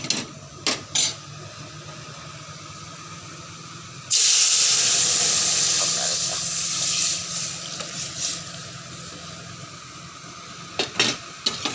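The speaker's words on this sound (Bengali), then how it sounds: "শুকনো লঙ্কা আর সর্ষে আছে দিয়ে দিলাম এই যে টক ডালটা ফোড়ন দিয়ে দেবো" Dried chilli and mustard tempering in hot oil poured into sour dal, a sudden loud hiss that bursts in close and slowly fades, with light clatter of utensils before and after.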